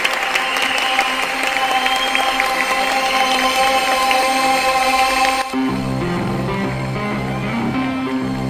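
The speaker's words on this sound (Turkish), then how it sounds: "alkışlarla sahneye alıyoruz." Loud, sustained audience applause and crowd noise fill a stage talk with the Eternal Fire esports team as Turkey's vice president is welcomed on stage, the clapping steady throughout before shifting to a lower roar.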